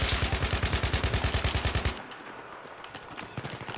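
Rapid machine gun fire in Battlefield 3 rattles in a loud, evenly spaced stream of shots, then cuts off and gives way to quieter, more distant gunfire.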